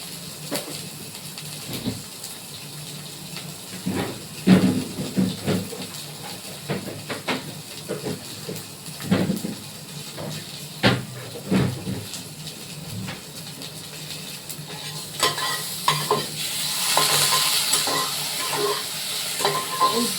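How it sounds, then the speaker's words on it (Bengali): Onion and spice paste frying in a pan makes a loud, continuous hiss, broken by repeated scraping stir strokes and clatters, with a stronger steamy burst near the end. "এটা আমি ভালো করে একটু ভাজা ভাজা করবো মশলাটা,"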